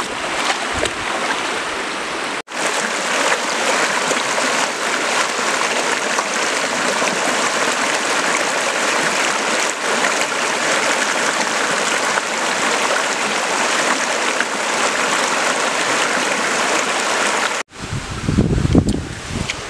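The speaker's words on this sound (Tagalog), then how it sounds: "Ito na yung Dakong Tubig River." Dakong Tubig River in Capoocan, Leyte rushes steadily as a dense, continuous wash of flowing water heard up close, broken briefly by handling noise near the start and end.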